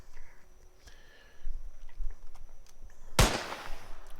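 A single sharp gunshot rings out in an Unreal Engine 4 shooter test scene, a loud sudden crack with a brief noisy tail, following faint quiet background tones.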